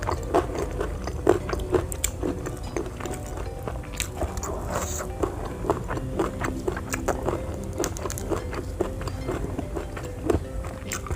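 Someone eating raw banana heart with salted fish and spicy kecombrang sambal, with close, steady crunchy chewing and biting running throughout, no talk.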